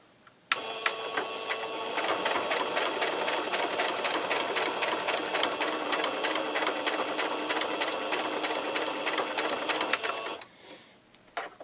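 A sewing machine stitches a patchwork coaster, a loud fast even mechanical chatter that starts suddenly, runs about ten seconds and then stops, followed by faint handling sounds.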